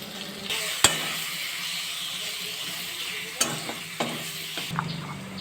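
Chopped tomatoes with salt sizzle and fry in a pan, a steady close hiss broken by a few sharp clinks and scrapes of stirring, with no voices.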